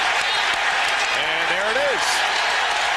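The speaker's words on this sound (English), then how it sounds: "The crowd getting on Sam Cassell, and he's been hit with a technical foul." Basketball arena crowd in the 2001 Eastern Conference playoff game between the Bucks and 76ers riding Sam Cassell after a technical foul, a steady loud roar of voices with applause filling the whole moment while a commentator talks over it.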